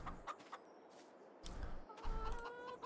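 Chickens in the Farming Simulator 22 video game cluck softly: a few short, faint clucks and calls, scattered and quiet over a low background.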